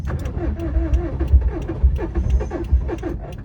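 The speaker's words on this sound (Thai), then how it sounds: "ไดสตาร์ทดังอ่ะ ก็คือมีแต่ไดสตาร์ทอย่างเดียว แต่ เครื่องมันไม่แบบ มันพยายามจะหมุนนะ" A Subaru WRX STI starter motor cranks in a rough, repeated rhythm, grinding over and over without the engine catching, close and fairly loud.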